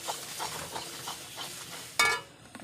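Cumin seeds and asafoetida fry in hot oil with a close, steady hissing sizzle, broken by a sudden sharper crackling burst near the end that then fades.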